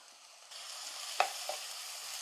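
Green chillies and curry leaves frying in a pan give a soft, low sizzle that starts after a moment, with one brief clink of a utensil midway; quiet and without talk.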